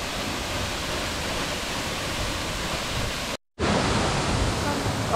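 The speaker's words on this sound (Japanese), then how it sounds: "箕面の大滝です。" Minoh Falls, the big waterfall at Minoh, roars as a steady, loud wash of falling water heard from nearby, broken by a brief dropout partway through before the rush continues.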